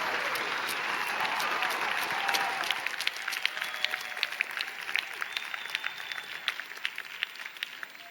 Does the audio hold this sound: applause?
yes